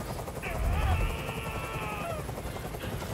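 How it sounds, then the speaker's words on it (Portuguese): A helicopter in the video game Detroit: Become Human thrums steadily in the background, its rotor rumble and whine swelling slightly and then holding under a man's agitated speech. "Eu não aguento mais esse barulho! Esse helicóptero tem que sair daqui agora!"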